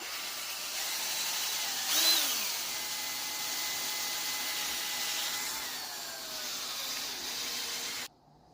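A power drill runs steadily at low speed for several seconds, spinning to clean a part from a Ford 9-inch rear axle drum brake job on an Econoline van, a continuous whir that brightens briefly, then cuts off abruptly.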